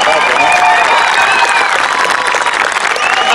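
A street-show audience claps and cheers loudly in a dense, continuous burst that fills the whole moment with steady crowd noise.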